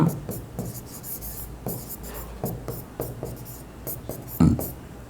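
Pen scratching on paper while filling in an accounting journal entry by hand, a steady series of short strokes with brief pauses between letters, close and fairly quiet, with no talking over it.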